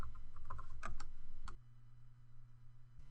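Fingers type on a computer keyboard while working in data integration software, a short burst of quick soft clicks followed by a pause and a couple of isolated taps, close and quiet.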